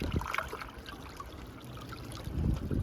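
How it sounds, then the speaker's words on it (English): Soft splashing and trickling water with light sloshing, faint and close, as a fish fillet is swished through it for a rinse. "we'll just give that a quick little rinse in the water"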